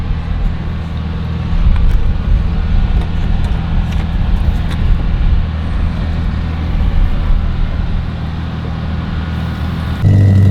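Several cars idling together at a race track staging area before a first track day, a steady loud engine drone with low rumble throughout, no talk.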